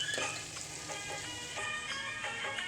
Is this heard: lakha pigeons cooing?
no